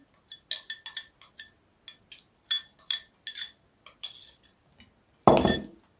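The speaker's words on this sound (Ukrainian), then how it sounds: "Перемішую це рідке тістечко з дріжджами" A utensil stirs thin yeast dough batter in a bowl, giving a run of light, irregular clinks and taps against the bowl's sides, followed by one louder scraping knock near the end.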